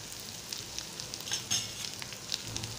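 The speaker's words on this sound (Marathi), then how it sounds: "आणि कोथिंबीर घालते आणि परत एकदा परतून घेते" Boiled potato vegetable with fresh coconut and coriander stir-fried in a pan: a soft continuous sizzle with scattered light scraping and stirring clicks, close by, with no voice.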